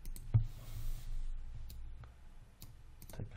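A few soft, sharp mouse clicks from right-clicking during 3D modeling and UV texturing work, isolated taps spaced over a quiet background.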